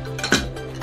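A cooking pot is set down on a faulty home stove with a single sharp metallic clunk and clink, close and brief, over a steady low hum.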